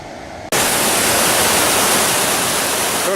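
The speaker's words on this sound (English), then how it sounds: "I must be at a lower section of the falls." A waterfall on the John Muir Trail, heard from a lower section of the falls, cuts in abruptly as a loud, dense, unbroken rush of falling water that fills the clip, close and alone.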